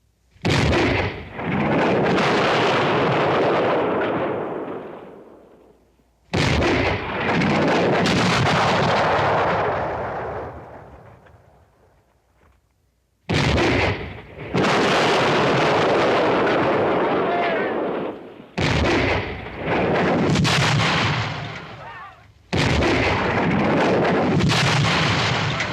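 Cannon artillery fire in a 1967 western battle scene: several huge booming blasts, each rolling out into a long rumbling decay, separated by short gaps, loud and close, with shouted commands in between.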